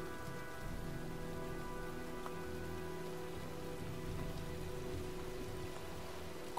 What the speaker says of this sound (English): Well, looks like a storm's coming.